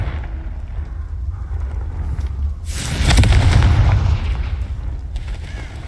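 A Confringo fire-blast spell from Hogwarts Legacy erupts in one heavy, booming explosion that swells loudly over a low rumbling background, then fades into ambient game noise.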